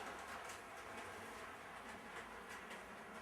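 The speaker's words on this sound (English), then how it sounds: "This is my very first Fleischmann drop train. It is still operating." A vintage Fleischmann O scale model train from West Germany runs steadily on its track, giving a continuous close rattling hum with faint clicking over the rails and no pauses or voices.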